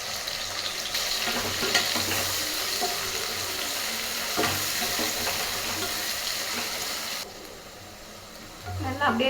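Onions and bay leaf fry in hot oil for chicken biryani, a close, steady sizzle with scraping stirs and occasional utensil knocks; a low hum and faint voice-like sounds sit underneath, and the hiss softens near the end.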